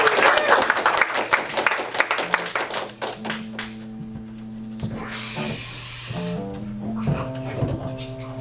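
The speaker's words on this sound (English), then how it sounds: "please give them a big round of applause to start this whole thing off" Crowd applause for performers at a marathon improv comedy show: a burst of quick, close clapping that fades within a few seconds, followed by voices and tonal sounds.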